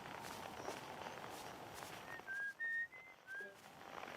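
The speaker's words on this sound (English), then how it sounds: "No, I don't want to hear the whistling." Whistled tune from a video game, several short clear notes in a brief melodic phrase over steady background game ambience and footstep-like noise, moderately loud and alone without talk.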